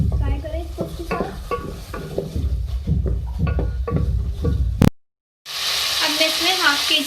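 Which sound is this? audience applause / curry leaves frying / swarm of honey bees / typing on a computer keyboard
curry leaves frying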